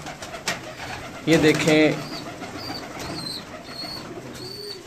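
Pigeons kept by a fancier, some with dyed feathers, give soft cooing calls against steady background noise, with someone speaking briefly over them.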